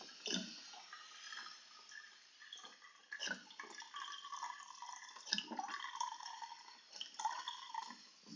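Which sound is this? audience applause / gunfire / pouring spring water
pouring spring water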